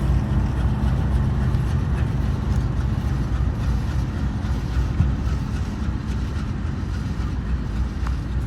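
A continuous heavy rumble of a passing Union Pacific freight train with a rear helper locomotive, steady and loud, with wind buffeting the microphone throughout.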